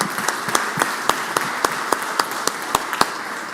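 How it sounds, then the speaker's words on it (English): A small group claps in the Mississippi Senate chamber during a floor session, with sparse, distinct hand claps landing at a steady, fairly regular pace, moderately close. "Will you give them a big round of applause?"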